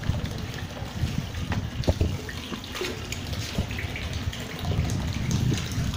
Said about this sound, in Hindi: वहाँ पाइप से आपको पानी गिरता हुआ नज़र आ रहा है